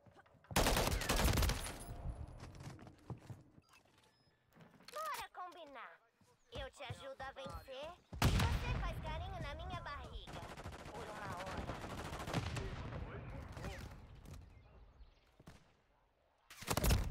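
Gunfire in the video game Call of Duty Modern Warfare III comes in sharp bursts and scattered single shots with quieter gaps between them, while a player talks over the action.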